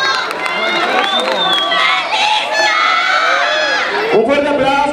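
A crowd at a cosplay contest awards ceremony in Guadalajara cheers and shouts for the judges, with many overlapping excited voices and screams, loud and close, and scattered talk mixed in.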